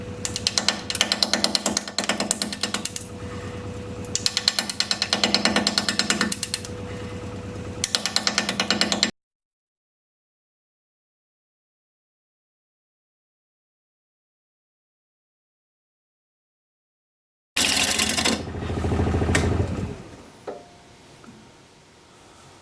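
A 5/8 inch bowl gouge is ground on a sharpening wheel in a woodturning shop, a loud, harsh buzzing grind that swells and eases in passes, then stops, with a shorter burst of grinding and a fading clatter near the end.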